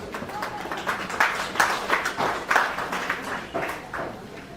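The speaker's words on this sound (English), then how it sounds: "A big clap and welcome to Dr." Audience applause welcomes a speaker at a national agritourism symposium on a leisure farm, with individual claps audible in the mix and a moderately loud level that swells and eases slightly throughout.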